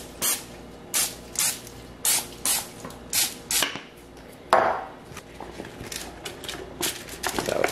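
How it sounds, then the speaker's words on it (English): An olive oil cooking spray hisses in short bursts, about eight quick regular sprays close by, followed by a longer, fainter spray with light handling noise. "So now we're gonna give it a spray with olive oil spray."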